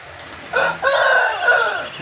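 Desi hens on a poultry setup give a short burst of clucking and squawking calls, close and moderately loud, in a couple of uneven phrases.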